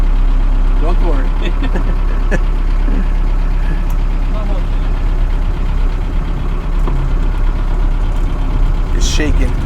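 Four-cylinder diesel engine of a 1982 Toyota FJ40 Bandeirante running while driving, a loud low steady rumble with rattles throughout, and people talking over it.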